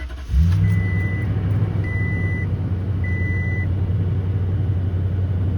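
A 2018 Toyota Tundra 1794 pickup with about 82,000 miles cranks briefly and catches, settling into a steady, smooth idle close by, with a faint chime repeating three times in the background.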